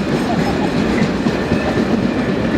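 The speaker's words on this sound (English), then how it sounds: "A blooming long train." A long freight train rumbles past loudly and close by, its wheels clacking continuously in a dense, steady roar.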